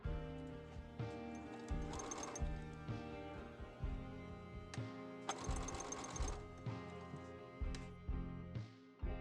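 A sewing machine stitches a heart-shaped pocket onto a fabric apron, its quiet mechanical whirring running in several short bursts separated by brief pauses.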